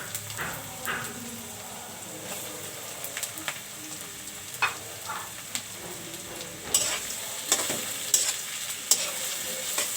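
Dried fish (shutki) stirred and fried in a pan, a soft continuous sizzle broken by intermittent scraping and clattering strokes of the spatula, growing busier toward the end.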